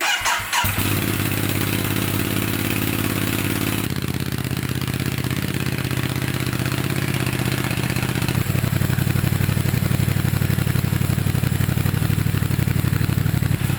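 A Ducati DesertX motorcycle with an HP Corse SP-1 EVO exhaust fires up and idles with a deep, throaty exhaust rumble, loud and close, settling into a steady burbling idle throughout.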